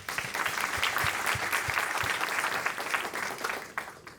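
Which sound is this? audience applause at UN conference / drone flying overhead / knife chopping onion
audience applause at UN conference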